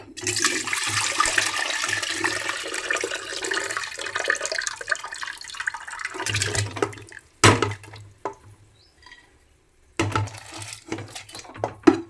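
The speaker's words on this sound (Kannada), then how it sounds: "ಹಾಗೆ ನೀರು ಸಮೇತ ನೋಡಿ ಕುಕ್ಕರ್ಗೆ ಹಾಕ್ತಾ ಇದ್ದೀನಿ" Water pours and splashes steadily into a metal pressure cooker, with brief pauses and clattering handling noises between the pours.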